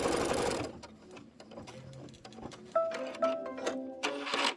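An embroidery machine stitches a broom design on a Kimberbell Home Is Where The Haunt Is pillow, giving quick bursts of rapid clicking needle taps separated by short pauses, close and moderately loud.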